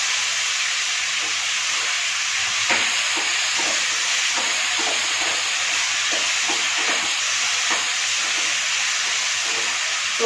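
Vegetables fry in a pan for salted rice, a close hissing sizzle with intermittent clicks and scrapes of stirring, steady and fairly loud, without speech.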